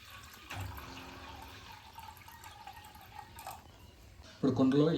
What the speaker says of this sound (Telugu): ఇప్పుడు కుండలో ఇలా వాటర్ వేసుకొని కొంచెం సాల్ట్ వేసుకుంటే సరిపోతుంది.